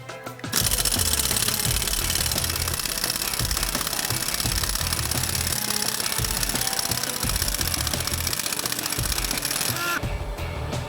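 A EUROX double-hammer air impact wrench runs in reverse, a loud, close, continuous rapid hammering rattle that starts abruptly and holds steady for about nine seconds before cutting off.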